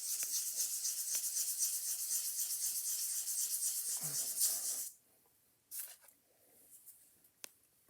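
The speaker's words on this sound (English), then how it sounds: "take the bottom of the nut and get some 360 sandpaper and put it on an anvil or something flat" The bottom of a Columbia cabinet phonograph gear nut is rubbed on 360 sandpaper laid flat on an anvil to remove burrs, a close, steady scratchy rasping for about five seconds, then a quieter pause with a few light scrapes and a tap.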